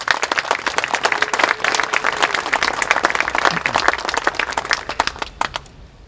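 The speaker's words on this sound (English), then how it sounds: "let's give them a round of applause as well." An outdoor crowd at a Memorial Day remembrance ceremony breaks into loud, sustained applause, dense clapping that fades out near the end.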